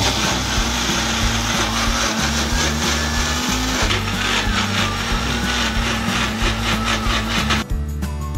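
A small mixer grinder whirs loudly and steadily as it blends okra into a paste, a constant motor drone with a rough grinding texture that cuts off near the end.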